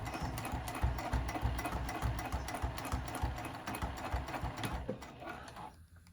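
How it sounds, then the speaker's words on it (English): Sewing machine running a second row of stitching on a zipper pouch, a steady close rapid mechanical chatter that continues with no talk and stops near the end. "now we're still working on our second row of stitching just inside the first row"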